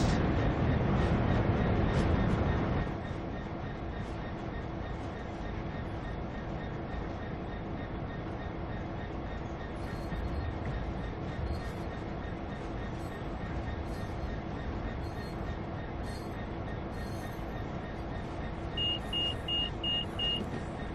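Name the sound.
Class 66 EWS freight train hauling intermodal containers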